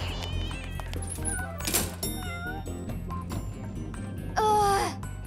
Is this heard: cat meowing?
yes